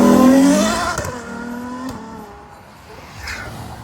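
Supercar at a small car meet accelerating hard away from the crowd, its exhaust note rising sharply and then fading as it pulls into the distance, loud at first before dropping off.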